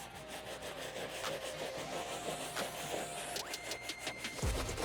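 A soft bristle brush scrubs a white mesh shoe, a steady close-up scratchy rubbing in continuous back-and-forth strokes with no talking.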